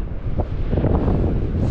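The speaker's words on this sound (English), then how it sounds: "Even though it's windy." Strong wind buffets the microphone on the Blackpool seaside promenade, a loud continuous low roar with gusty rumble and no voices.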